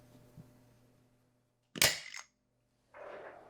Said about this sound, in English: Let's see if we can push out the crystal.